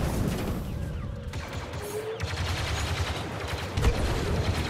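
Blaster fire crackles in repeated close bursts during an Ewok Hunt match in Star Wars Battlefront II, over a busy game background with no talking.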